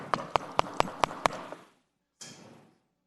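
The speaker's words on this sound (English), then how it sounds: "what I call the knock at the door" Six sharp, evenly spaced knocks rap on a door, loud and close, followed by a short pause and a softer scraping or rustling sound.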